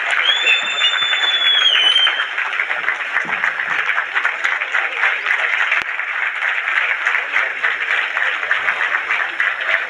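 Sustained applause fills an award ceremony at a wellness event in Kolkata, broad and steady throughout, with a few whistles near the start and voices mixed into the crowd noise.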